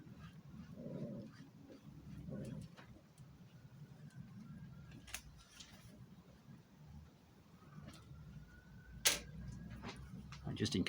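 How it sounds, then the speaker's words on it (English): Two dogs, a pup named Smudge and a small rescue dog, play indoors. Their soft scuffles, whimpers and low grumbles stay faint in the background, with occasional sharp ticks and a voice now and then. "Who needs background music when you've got the sound of dogs playing,"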